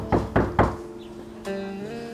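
Three firm knocks on a door in a Turkish TV drama scene, evenly spaced and close, followed by a sustained tonal hum.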